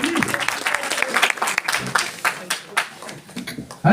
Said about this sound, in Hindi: एक बार भाई के लिए जोरदार तालियां होनी चाहिए